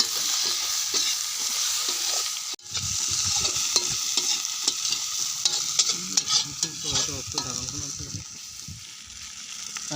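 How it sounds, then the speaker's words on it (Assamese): Tomatoes and green chillies fry in a pan with a loud, continuous sizzle, broken by repeated stirring scrapes and clatter of a utensil, plus one brief dropout early on. "এতিয়া সুন্দৰকৈ ফ্ৰাই কৰি ল'ম"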